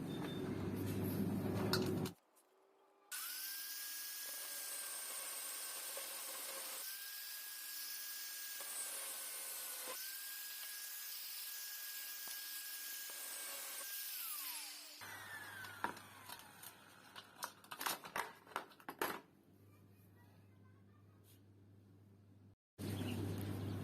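Metal being cut while an oil filter wrench is made: a sustained power-tool whine for about twelve seconds, then a rougher stretch of irregular scraping and clanks, all close and fairly loud.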